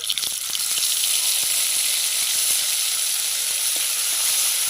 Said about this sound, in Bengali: তেলটা গরম হয়েছে ফোড়নে পাঁচ ফোড়ন শুকনো লঙ্কা তেজপাতা অল্প একটু জিরে বাটা